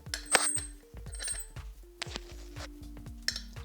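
A belt-driven four-wheel-drive Team Magic G4 nitro RC car drivetrain is spun by hand, giving soft repeated whirring ticks and small metallic clinks, quiet and close, with no talking.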